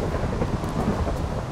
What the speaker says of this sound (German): Es regnet draußen.